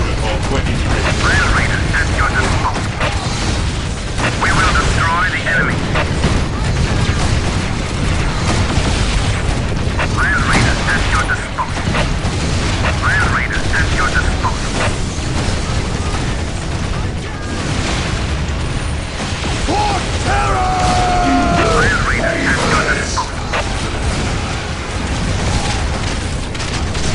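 Battle in the Warhammer 40k: Dawn of War strategy game, loud continuous booms, bursts and clanking mechanical noise under game unit voice lines, with repeated heavy explosions throughout.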